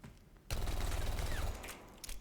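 Weapon fire shatters a destructible panel barrier in the video game Overwatch, heard as a loud one-second burst of rapid gunfire with breaking debris, followed by quieter clatter.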